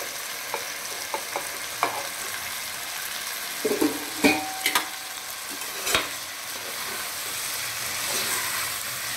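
Mint, eggs and soya chunks are stirred in a pan for milmaker biryani: scattered light scraping and clinking strokes over a faint, steady sizzle, with no talking.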